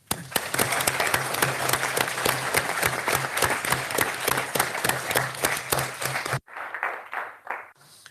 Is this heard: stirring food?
no